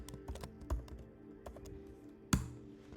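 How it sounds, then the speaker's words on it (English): Typing on a Mac laptop keyboard: scattered, uneven keystrokes at close range, with one sharper, heavier key thump near the end and no talking. "I'm still using the laptop keyboard."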